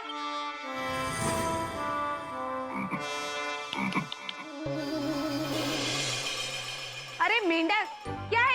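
Frog croaks sound in bursts amid a busy mix of voices and music, loud and close, with ringing tones near the end.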